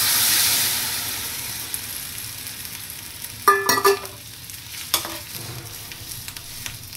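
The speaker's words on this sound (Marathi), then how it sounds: "आता ह्याच्यामध्ये वाफवलेला वाटाणा टाकूया." Steamed green peas being added to a sizzling masala curry, with a steady frying hiss, then a burst of clattering, stirring and scraping in the pan midway, followed by quieter bubbling and stirring.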